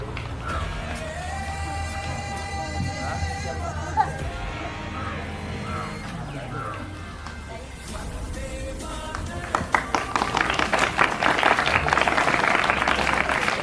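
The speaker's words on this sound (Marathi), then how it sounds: "जोरदार टाळ्या." Loud applause from a crowd of children and adults at a school event welcoming a guest bursts in near the end and carries on dense and steady after a stretch of tonal sound and murmur.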